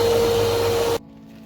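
An electric hand mixer whips cake batter with sugar for a kinder delice-style cake, giving a loud, steady motor whine and hum that cuts off abruptly partway through, leaving near silence.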